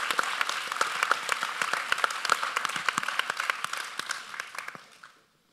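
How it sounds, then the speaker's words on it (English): An audience at an art forum at the ICA Boston breaks into steady, dense applause that holds for several seconds before fading out to silence. "So let's give a round of applause for Camilo."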